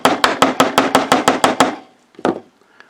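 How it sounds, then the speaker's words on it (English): A GT500 Eleanor scale model part is struck with a makeshift tool instead of a hammer, giving about ten sharp, evenly spaced taps close up, then a short pause and two final knocks. "Just use an improper tool for hammering."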